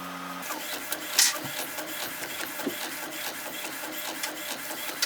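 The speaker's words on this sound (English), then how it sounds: "look what came out of the printer" A home printer runs steadily while printing photos, giving a continuous mechanical whir with rhythmic clicks and small clunks, fairly close and with no talking.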